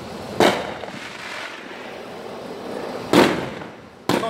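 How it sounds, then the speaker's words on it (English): Fireworks go off in three sharp, booming bursts spaced a few seconds apart over a steady outdoor background hiss, with no talk in between. "Where are your fireworks?"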